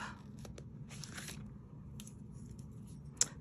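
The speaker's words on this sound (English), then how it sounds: "So I'm just going to snip these off." A few quiet scissor snips cutting card paper, spaced irregularly, with one sharper click near the end, close by and otherwise quiet.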